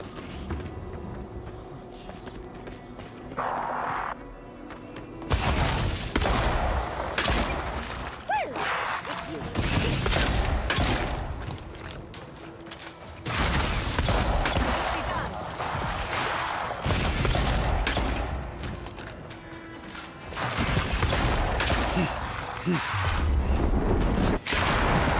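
Video game gunfire rattles out in long, dense bursts of rapid shots with mechanical clanks between them, loud and repeated across the stretch, with short quieter gaps.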